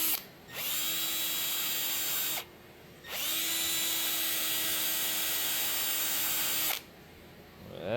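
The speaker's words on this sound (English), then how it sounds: "I'm going to get my drill out, wire wheel" A power drill with a wire wheel brush cleans parts of a Massey Ferguson TE20 tractor in three bursts, whirring steadily with a gritty scraping edge, short pauses between runs, fairly close.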